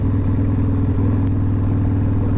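A motorcycle runs close by, its steady mid-pitched engine drone loud and continuous with a slight rattle, the note shifting a little partway through as it passes.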